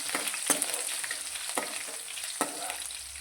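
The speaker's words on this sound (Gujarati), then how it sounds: "વઘારને આપણે સારી રીતે સાંતળીશું" Curry leaves and finely chopped green chillies sizzling in hot oil as a tempering, with a steady hiss and a few sharp spoon strokes against the pan, close and alone.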